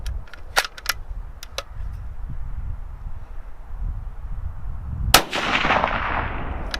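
A single sharp rifle shot from a Bergara B14 HMR in 6.5 Creedmoor at an outdoor range, loud and close, trailing a broad hissing wash; fainter earlier cracks and clicks sit over steady wind rumble.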